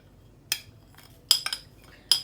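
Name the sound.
mixing dry spices into chicken for marinade, utensil clinking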